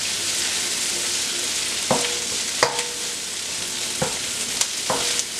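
Garlic and ginger sizzle steadily in a hot pan for beef and broccoli, with occasional sharp clicks and scrapes of a utensil stirring.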